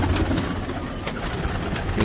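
A fancier's pigeons in Delhi, with one bird brought down to land, give brief soft cooing over constant outdoor background noise.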